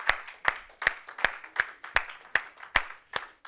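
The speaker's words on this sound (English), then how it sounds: "Why don't we give the Lord a hand clap of praise in the house today?" Hands clap in praise at a church service, about nine sharp, evenly spaced claps in a steady beat, close and clear with nothing else around them.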